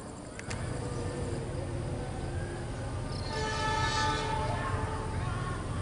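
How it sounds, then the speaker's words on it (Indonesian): The Malabar passenger train, a set of stainless steel cars, rolls straight through Cimekar station in a steady loud rumble, with a brief horn-like tone at the start and rising wheel and rail noise as it passes. "Malabar berjalan langsung di stasiun Cimekar"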